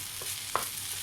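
Chicken fried rice hisses steadily in a hot pan while being stirred, with one brief scrape of the utensil against the pan breaking up clumps, close and continuous.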